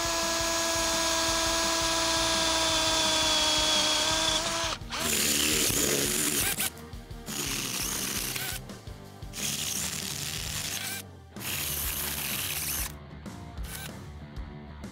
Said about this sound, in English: so we can snug it down and drill the rest of our holes